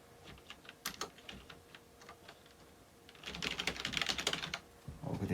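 Someone types on a laptop keyboard with soft, close key taps, sparse at first and then a quicker, denser burst of clicks.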